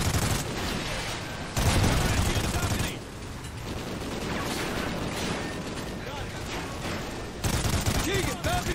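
Heavy machine gun fire in the Call of Duty Ghosts campaign on Xbox, a dense continuous roar of automatic bursts and explosions with louder surges near the start and end, under in-game combat chatter.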